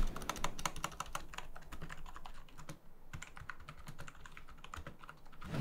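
Fingers type rapidly on a Lenovo K300 RGB quiet membrane keyboard, a close, soft, steady patter of muted keystrokes with no voices.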